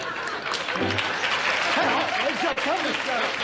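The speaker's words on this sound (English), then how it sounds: "The audience is clapping because he can't hear him do his bit here." An audience claps through a livestreamed performance, with a steady patter of applause and scattered chuckles under continuous talk from several voices.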